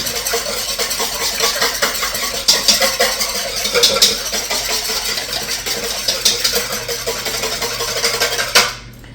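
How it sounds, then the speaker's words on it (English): A whisk rattles and scrapes steadily around a bowl, blending two poured-in ingredients for a Thanksgiving cornbread stuffing casserole. The brisk, close, continuous clatter runs for several seconds and then stops abruptly. "I'm going to whisk it together"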